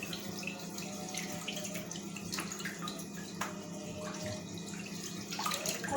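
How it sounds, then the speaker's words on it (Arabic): Water runs steadily from a tap into a pot of raw chicken pieces being cleaned in a home kitchen, a continuous close splashing stream with no talking. "وهنكب برضو الميه بالشكل ده"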